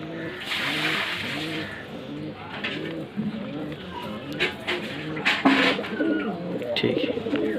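Madrasi pigeons in a loft in Kolkata coo repeatedly in soft, rhythmic low calls throughout, with someone talking over them and occasional nearby clatter.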